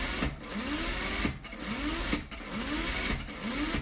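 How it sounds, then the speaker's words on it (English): A sewing machine stitches in four quick bursts, each rising whir followed by a brief pause, close and steady while securing the end of a seam on a homemade Father's Day gift. "I'm going to secure my stitch on the end"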